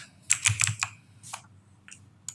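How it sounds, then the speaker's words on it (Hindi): Keys clatter on a computer keyboard as a search is typed into Windows settings, a quick burst of close clicks followed by a few scattered taps, with no voice. "सबसे पहले सेटिंग्स में जाना है और टाइप करना है फोटोज़"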